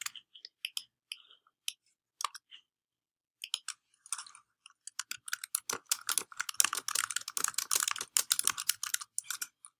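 Computer keyboard typing up close, starting with sparse scattered key clicks and building into a dense, rapid run of clattering keystrokes in a quiet room.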